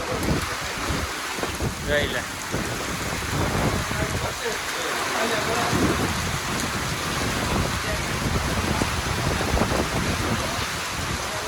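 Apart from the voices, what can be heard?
heavy rain storm with wind and hail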